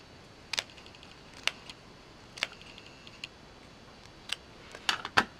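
Scissors snip through folded glittery paper in several sharp, separate clicks spaced unevenly, quiet and close, with no talk.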